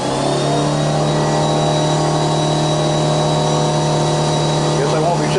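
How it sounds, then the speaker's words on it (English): An air compressor runs in a workshop, building up pressure with a loud, steady droning hum and a constant whine that holds for the whole stretch without pause. "Air compressor finally built up, so don't have to listen to that."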